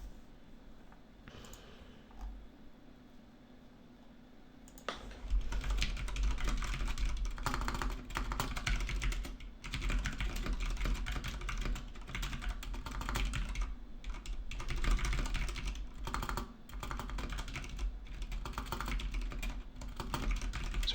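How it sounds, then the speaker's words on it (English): Computer keyboard keys clack in quick, uneven bursts of typing, close and fairly loud after a quieter start, the tapping running almost continuously with brief pauses. "Sorry for the keyboard clacking."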